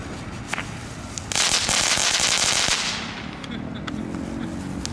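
Aldi consumer fireworks going off: a dense burst of loud crackling pops and bangs for a couple of seconds, then scattered sharp cracks fading out, with faint background chatter.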